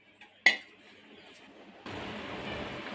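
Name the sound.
soaked white peas put into a pressure cooker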